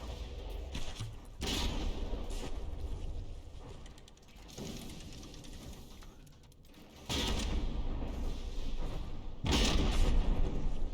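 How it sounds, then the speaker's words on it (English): AP frag cram cannons firing in From The Depths boom out in a few heavy, sharp blasts spread across the stretch, over a continuous low rumble of naval battle, fairly distant and moderate in level. "Those AP frag crams, I'm pretty sure they're AP frag crams, are doing some damage to the light armor of the Mutated Outcast."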